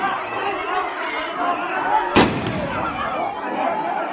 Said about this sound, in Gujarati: બંદૂક લઈને આવ્યો તો સરપંચ ભડાકા કર્યો